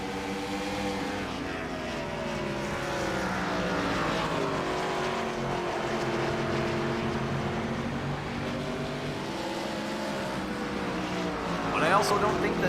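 Race car engines drone and whine on Road Atlanta in a racing video game, a sustained multi-car roar with rising and falling pitch as cars shift and corner, while a commentator talks over it.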